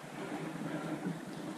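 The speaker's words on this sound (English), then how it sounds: "Variable wind here at the minute, but that's going to change." Wind rushing over a sailing boat at sea, a steady, fairly faint broadband whoosh with low microphone buffeting and no voices.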